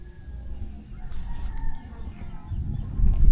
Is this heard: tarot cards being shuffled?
no